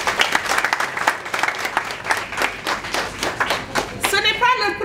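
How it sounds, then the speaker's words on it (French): Scattered audience clapping at a school kit handover ceremony in Rufisque, uneven and moderately loud, with a voice breaking in near the end. "Et je veux qu'on les applaudisse aussi."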